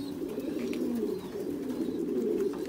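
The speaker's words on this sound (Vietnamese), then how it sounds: "đây là những cặp chim bồ câu đa ràng này" Caged pigeons coo continuously in a low, rolling murmur, several birds overlapping close by with no talk.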